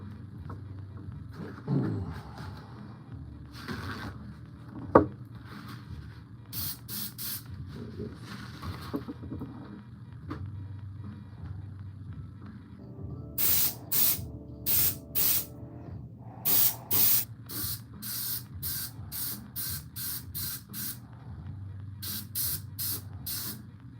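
An RC drift car body being spray painted, bursts of aerosol hiss that start sparse and irregular, then come as a quick run of short, close, loud sprays with brief pauses between them.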